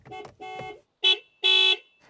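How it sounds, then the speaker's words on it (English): A Haval H6 hybrid car horn sounds in four close, loud honks, two shorter lower beeps followed by two brighter, sharper blasts with gaps between. "And this is what the horn sounds like."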